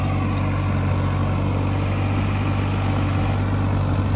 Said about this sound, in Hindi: हाँ लिफ्ट कंट्रोल करके छोड़ दिया और ट्रैक्टर है जो अभी देखो सीधा चल रहा है।